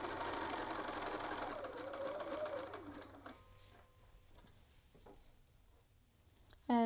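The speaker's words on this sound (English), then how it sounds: "Lower your presser foot and begin sewing." Sewing machine running a seam on a shirt button band, a steady mechanical whir for the first three seconds before stopping, followed by quieter handling and a brief sharp sound at the end.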